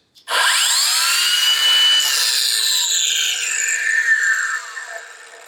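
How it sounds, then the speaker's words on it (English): A Ryobi cordless angle grinder spins up and runs steadily for about five seconds, loud and close, its whine shifting in pitch before winding down at the end, with no talking. "one of the other ones that every decent mechanic needs is the angle grinder"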